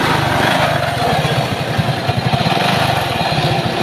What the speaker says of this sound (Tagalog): Dito yung nanggagaling yung napakapangit na tunog ng kanyang makina.